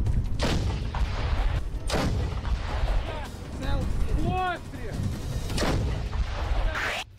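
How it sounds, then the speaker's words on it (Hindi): An M777 howitzer fired by Ukrainian soldiers, heard as several heavy booming blasts a second or two apart, loud and close, with voices shouting between the shots. "इस वीडियो में यूक्रेनी सैनिक M777 हॉवित्जर तोप से रूसी सेना पर बमबारी करते हुए दिख रहे हैं।"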